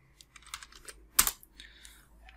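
Brief burst of typing on a computer keyboard, a few light clicks followed by one sharper keystroke, close and quiet with no talking.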